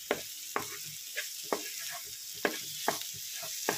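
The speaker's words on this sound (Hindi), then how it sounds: "इसका ऑयल ऊपर आ चुका है, बस 1-2 मिनट और भूनेंगे इसको" Raw papaya halwa roasted in oil with its fat risen to the top, stirred in a pan with a soft continuous sizzle and regular scraping strokes of a spoon every half second or so.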